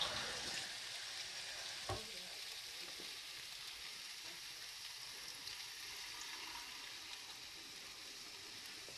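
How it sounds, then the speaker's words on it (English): Water runs into a tumbler glass, heard as a steady hiss of pouring from a tap that starts with a short splash and keeps a constant level throughout, with no talk. "Okay, I'm going to fill that up with water."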